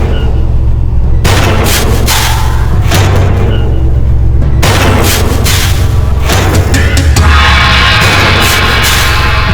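A single-shot country pistol (kutta) fires in a dramatized Indian crime scene, loud heavy booming reports at about 1.2, 4.5 and 7 seconds over a constant low rumble, with no talking.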